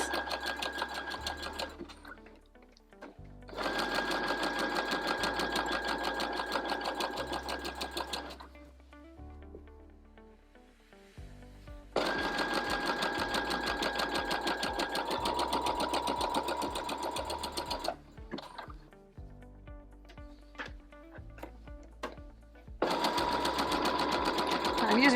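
A sewing machine stitches a garment being let out to make it bigger, running with white thread in several long sustained bursts separated by short pauses, loud and close.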